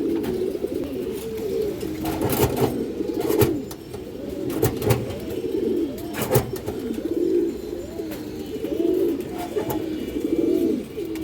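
A male pigeon coos close by in a repeated, rolling rhythm with brief pauses, while occasional sharp rustles and knocks break in.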